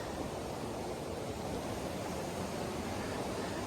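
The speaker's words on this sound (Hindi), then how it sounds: "जब नदी के पानी के बहने की आवाज़ सुनाई दे रही हो" River water flows in Langtang Valley, Nepal, as a steady, even rush of noise with no breaks, moderately loud and unchanging throughout.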